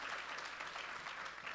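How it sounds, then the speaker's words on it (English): Audience applause for finalists at a startup pitch competition, a steady, fairly distant wash of many hands clapping that fills the short stretch alone. "can we give a big round of applause for our Main Street finalists?"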